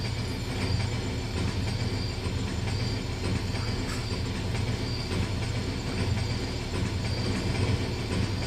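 A train rumbles along at dawn in a continuous, fairly loud rolling drone, with faint rail clatter and the odd squeal over low mechanical noise and no voices.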